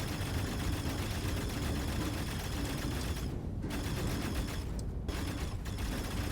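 Ship weapons firing in the RSI Hermes space game, a dense continuous rattling barrage broken by two brief pauses near the end, with no talking.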